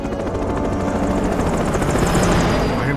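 A helicopter in the video game Metal Gear Rising: Revengeance roars loudly and steadily with dense rotor chop throughout, no talk over it.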